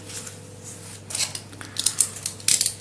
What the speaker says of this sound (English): I'm going to start peeling off these stickers